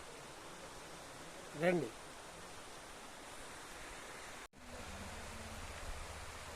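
A scenic waterfall in a valley, a steady broadband rush of falling water that holds throughout, briefly interrupted by a cut, with a short spoken word over it.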